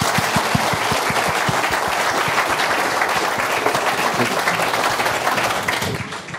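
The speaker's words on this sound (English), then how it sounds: "So thank you very much. A round of applause" Conference audience applauding at the end of a talk at a cloud-native tech meetup in London: dense, steady clapping from a sizeable crowd, sharp hand claps up front, fading slightly at the very end.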